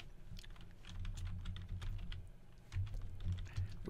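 Keys tapped on a computer keyboard while a file name is entered, a quick irregular run of soft clicks close by over a faint low hum, without speech.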